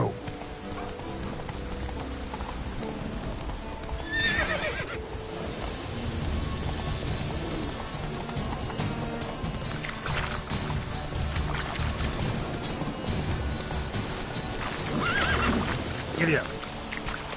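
A horse gallops and neighs in The Witcher 3, with continuous hoofbeats and outdoor ambience under loud, busy game sound, along with a whinny or two.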